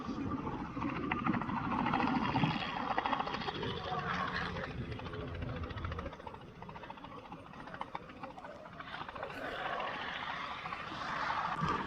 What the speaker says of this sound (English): From stage left, the 1939 Taylorcraft, and Erik Edgren with Smoke On.